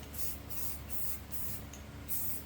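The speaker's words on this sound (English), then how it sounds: "we're gonna spray the first coat black" Black spray paint from an aerosol can sprayed onto a Gladiator inner fender, a run of short hissing bursts close by over a low background hum.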